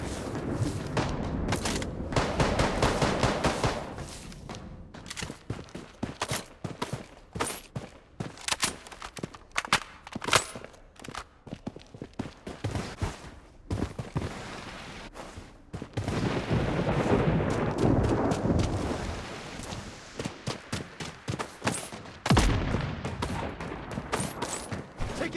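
Repeated gunfire bursts and booming explosions from the Blood Strike shooter game, dense and loud in clusters with short gaps, including rapid automatic fire and heavy impacts.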